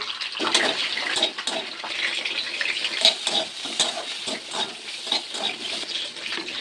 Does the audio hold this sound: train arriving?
no